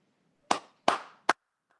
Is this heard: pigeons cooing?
no